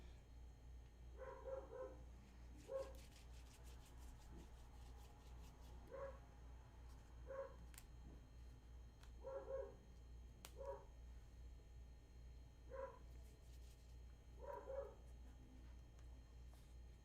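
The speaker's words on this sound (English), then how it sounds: "Why are my dogs barking?" Dogs barking repeatedly at a distance, short paired barks spaced out in an irregular rhythm, faint and muffled indoors over a steady low hum.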